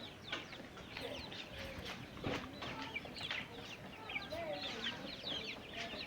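Five-week-old broiler chickens in a coop on a Ghanaian poultry farm cluck and cheep together in a busy, continuous flock chatter, with a few louder squawks standing out.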